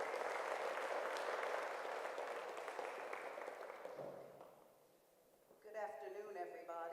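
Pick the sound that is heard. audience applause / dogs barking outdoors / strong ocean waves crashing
audience applause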